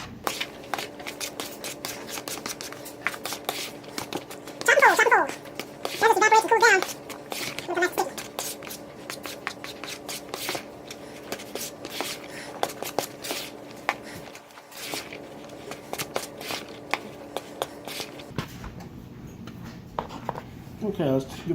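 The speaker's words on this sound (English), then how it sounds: "as you fan, you want to continue stirring." A spoon stirs vinegared sushi rice while it is fanned, making a dense run of soft scraping, tapping clicks that goes on throughout, with a brief voice partway through.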